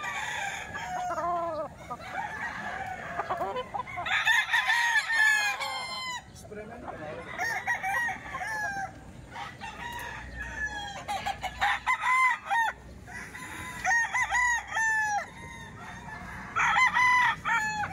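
Roosters and young stags crow over and over at a busy chicken market in Baliwag, with loud nearby calls overlapping, clucking between them and faint voices in the background.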